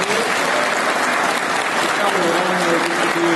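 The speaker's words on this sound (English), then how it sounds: "I want everybody to give a round of applause to your families" Audience applause at a combat medic graduation ceremony, a dense, steady wash of many hands clapping from start to finish, loud and sustained, with a voice faintly audible underneath.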